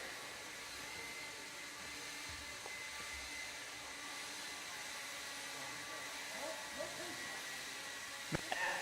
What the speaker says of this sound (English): grab your blower, start blowing off your areas